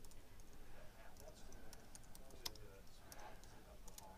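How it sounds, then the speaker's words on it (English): Quiet, scattered key clicks from a computer keyboard being typed on while entering bulleted text in Adobe Dreamweaver CS4, soft and close over a faint background hiss. "Let me just type a few of these in here."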